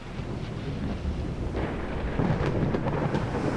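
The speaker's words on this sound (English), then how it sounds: "Storm, not fog." A thunderstorm rolls in the naval video game Ultimate Admiral Dreadnoughts, a sustained deep rumble with hissing rain and wind, swelling slightly toward the end, no speech.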